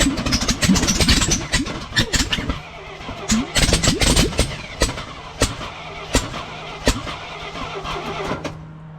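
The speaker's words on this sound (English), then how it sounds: "let's get inside and crank this a little bit and see if we can get some fuel through that pump and up into the carburetor" A 1968 International farm truck engine cranks in repeated bursts, a starter grinding at close range, with a voice speaking briefly between cranks.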